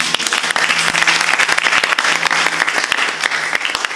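A church congregation claps loudly and continuously at an evangelistic service, a dense, steady roar of applause from start to finish with no talking over it.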